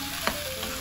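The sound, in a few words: stirring sautéing mung beans in a pan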